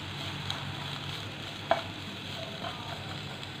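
Onions frying in a little oil or ghee in a pan during potato snack preparation, a soft steady sizzle with occasional stirring scrapes and light clinks.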